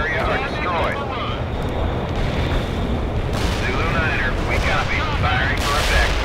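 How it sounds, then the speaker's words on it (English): An artillery strike in the World in Conflict video game: heavy, continuous low booms and rumbling impacts with crackling bursts, loud and close, while voices talk over the barrage. "A perfect artillery hit."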